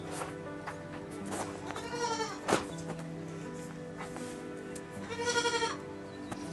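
Goats bleat in their shed in a Konkan village, two clear wavering calls standing out, one near the middle and a longer one near the end, over a steady background hum.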